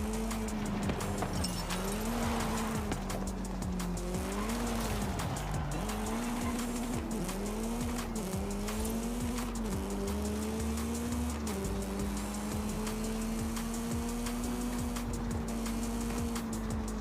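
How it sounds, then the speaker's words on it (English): Tires squeal continuously as a car drifts in the racing game Forza Horizon 5, with the engine tone rising and falling under the screech, loud and steady throughout. "Incredible drift by Toro Loco"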